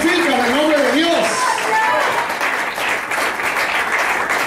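Church congregation applauding the Lord at a Spanish-language service, steady loud clapping throughout with shouting voices and a speaker's voice rising over it early on.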